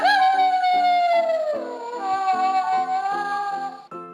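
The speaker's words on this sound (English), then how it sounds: "Wolf." A wolf howls in one long, sustained, wavering tone that slides gently downward, with clear harmonics and faint echoing yips underneath, loud and close with no talking.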